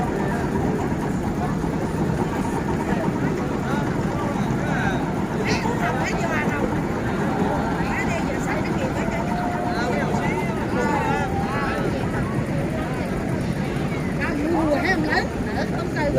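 Boats moving along the river at night in Hoi An give a steady engine hum beneath continuous crowd chatter and busy waterfront noise, never dropping away over the whole stretch.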